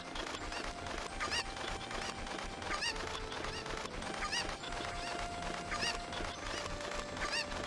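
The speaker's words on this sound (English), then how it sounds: "I'm going to go ahead and start getting all the cuckoos in the pen to get the bottle" In the Legend of Zelda: Ocarina of Time video game, cuckoo chickens give repeated short clucks and squawks at a steady interval over a continuous game background.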